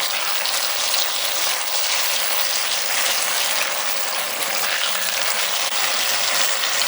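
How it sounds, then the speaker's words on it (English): Spring onions, peanuts and chicken fry hard in a hot wok for Kung Pao chicken, a loud, steady, dense sizzle that holds without pause from start to finish. "And fry it again for 1 minute"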